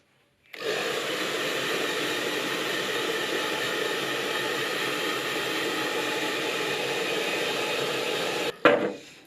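A hot-air paint dryer blows steadily on a freshly sprayed Arrma Granite Voltage 2WD RC car body, an even broadband whoosh running nearly nine seconds before cutting off with a brief clatter at the end.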